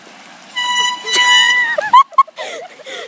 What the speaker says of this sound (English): we're gonna do the air horn prank